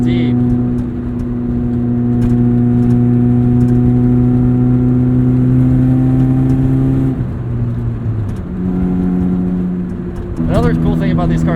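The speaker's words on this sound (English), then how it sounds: "The exhaust note is kind of nice too." A 1996 Saturn SC2 pulls away with a deep, steady exhaust note that holds strong and close, then dips and rises again as the engine climbs through its revs, with a voice speaking over the drone.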